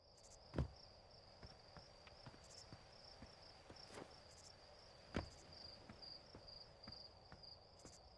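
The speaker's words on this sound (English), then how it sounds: "Crickets." Faint, steady insect chirring in Outer Wilds, a high thin band running throughout against a quiet ambient bed, with a couple of soft thuds and footstep-like taps along the way.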